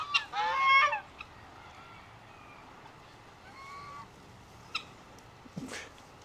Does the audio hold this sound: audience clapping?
no